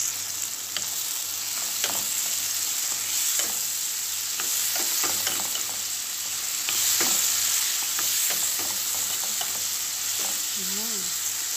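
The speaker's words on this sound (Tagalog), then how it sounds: "Lalagyan ko guys ng kaunting soy sauce." Soy sauce goes into food stir-frying in a pan, a steady close sizzle with scattered spatula scrapes and taps, fairly quiet and continuous throughout.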